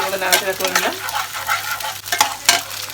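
Beaten egg and homemade sausages fry in a pan while a utensil stirs and scrapes them. Close, uneven scraping strokes ride over a steady sizzle.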